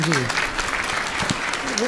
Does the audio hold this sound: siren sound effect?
no